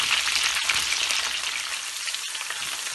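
Bitter gourd (karela) fries in oil over full heat, giving a dense, steady sizzle that crackles without a break from start to finish.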